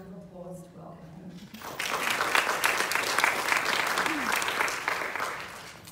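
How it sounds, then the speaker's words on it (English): An audience at a talk on art and museum collections breaks into applause to welcome a speaker. A voice talks briefly, then dense clapping swells, holds steadily and tapers off toward the end. "Can we just give him a round of applause to welcome him?"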